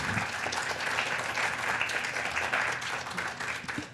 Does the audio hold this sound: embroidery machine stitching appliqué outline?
no